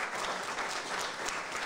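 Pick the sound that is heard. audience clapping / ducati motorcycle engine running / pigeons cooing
audience clapping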